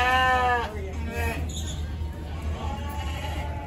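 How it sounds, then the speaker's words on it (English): Sheep and goats bleat in a pen at a livestock auction, one strong harmonic call up front followed by softer, overlapping bleats over a steady crowd-and-barn murmur. "Look at all those sheep and goats waiting to be sold."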